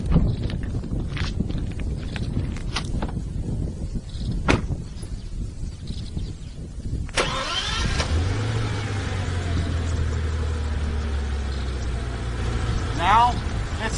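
A Bentley Continental GTC engine cranks and fires up partway through, settling into a deep, steady idle rumble after a sharp starting burst, with footsteps and scattered clicks before it and a later blip.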